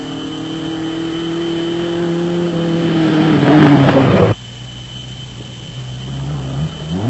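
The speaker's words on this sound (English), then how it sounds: "One or two good battles were starting to develop throughout the field, with Max and Juan Moore in the VW Footloose" Off-road race vehicles, such as a Toyota Hilux, in South Africa's 1996 Settlers 400: a loud engine drones and rises in pitch as it approaches and passes close by, then cuts off sharply, leaving a lower distant hum.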